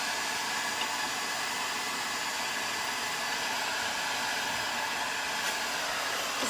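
A heat gun blows a steady, loud hiss of hot air over crackle finish paint, unbroken and unchanging throughout, with no voices.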